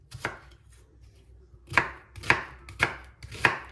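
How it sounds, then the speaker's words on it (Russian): A knife chops onion coarsely on a cutting board, one isolated cut followed by four sharp, close, evenly spaced chops with no talk. "Лук я крошу тоже крупно."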